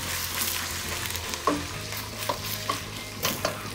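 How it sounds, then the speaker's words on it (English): Chicken pieces browning in a stew pot give off a steady, moderate sizzle, broken by several scraping stirs and light clinks of a utensil against the pot. "I'm going to add the chicken to the pot and just slightly brown it, just to seal it and to cook the skin"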